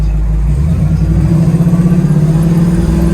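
A 1967 Chevrolet Camaro engine runs steadily while driving and shifting gears, giving a close, continuous mid-pitched drone with a slight pulsing throb and no voices.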